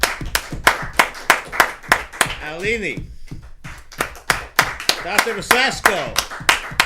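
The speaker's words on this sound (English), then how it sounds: "Let's give him a round of applause." A round of applause at a live show featuring a trained bird, with loud, close, rhythmic clapping and a brief lull midway while a voice speaks over it, then the clapping resumes.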